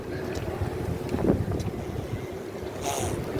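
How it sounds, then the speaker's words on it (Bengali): Cold winter wind rushing and buffeting against the microphone on a university campus in Taiwan, a continuous low roar with occasional gusts and no talking. "ঠান্ডা ঠান্ডা হাওয়া গনগন করছে"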